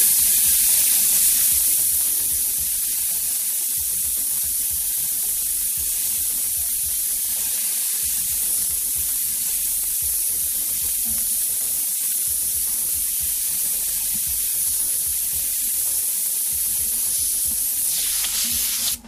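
An airbrush gun sprays paint in a continuous close, bright hiss, with short breaks and pulses as the trigger is worked, lasting nearly twenty seconds with no talk.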